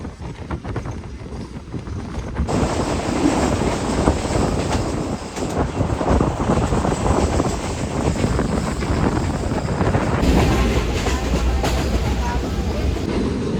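The Awam Express passenger train, riding at around 100 to 110 km/h, gives off a steady, loud rumble of wheels on rails with wind buffeting, growing heavier after a few seconds and holding on.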